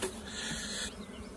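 Bees buzz loudly and steadily around wooden hive boxes being moved onto a pallet, a dense close insect drone that eases slightly near the end.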